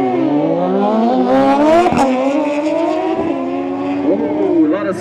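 A car at a bike and car show in St. Vincent revs hard while pouring smoke, a loud, close engine rising and falling in pitch through repeated revs, with people talking over it.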